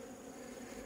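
Honey bees crowd a hive frame in an apiary, giving a steady, faint, even buzz with no voices.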